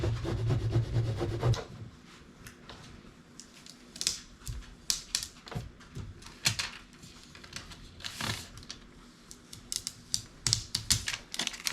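A tool scrapes a transfer onto black material in repeated close, dry scratchy strokes and rubs, with light taps between passes and a muffled bump near the start, and no talking.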